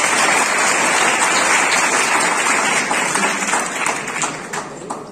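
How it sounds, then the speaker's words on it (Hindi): A room full of students applauding themselves during a school talk, a loud, sustained wash of clapping that thins and tapers toward the end. "एक बार आप लोग अपने लिए तालियां बजाइए"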